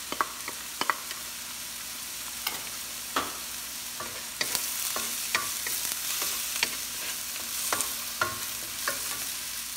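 Garlic sautés in a hot pan, giving a continuous crackling sizzle with sharp scraping clicks from stirring at an irregular rhythm, close and clear, with no talking.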